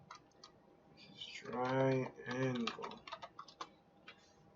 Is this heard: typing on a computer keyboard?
yes